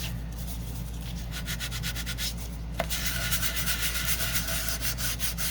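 Steady scraping rubs pass back and forth over a shiny topper surface to dull it for gluing, a close, continuous abrasive swishing with quick repeated strokes and one sharp tap midway.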